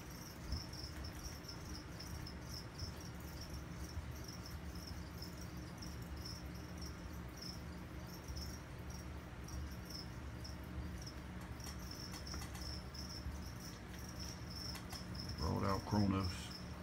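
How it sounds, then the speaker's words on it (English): Crickets chirp steadily from cages housing pet toads and frogs, a continuous high shrill chorus running throughout, with a brief louder rustle near the end. "That's why you hear all that cricket noise there in all my toads' cages"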